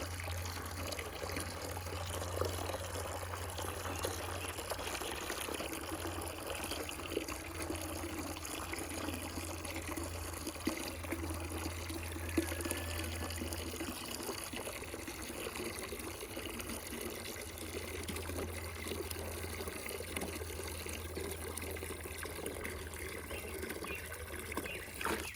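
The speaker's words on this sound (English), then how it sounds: "Fill up these 3 buckets so I don't have to walk quite as far to get the water." Steady rushing of water pouring into buckets, continuous and fairly close, with a low hum underneath and no talking.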